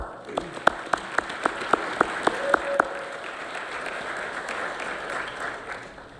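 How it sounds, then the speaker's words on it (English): Audience applause at a regional educators awards and scholarship program, a run of close individual claps that gives way to a broader wash of clapping from the room, fading toward the end. "Please give yourselves a round of applause."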